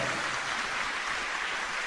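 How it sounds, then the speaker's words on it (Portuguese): Dense, steady applause from a church congregation during a service, continuous and fairly loud with no talking over it. "Palmas para o Senhor."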